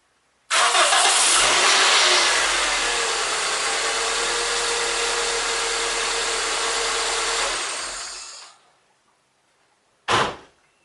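A 1997-1999 Toyota Corolla engine cranks and catches, then idles steadily and loudly for several seconds before shutting off, followed by a brief knock like a door or hood.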